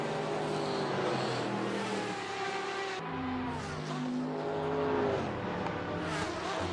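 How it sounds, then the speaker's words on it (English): Corvette GTE race car in a racing video game at Suzuka, engine driven hard and revving high, with a sharp downshift and rising pitch through repeated acceleration, loud and continuous. "DK is absolutely ragging that Corvette round here"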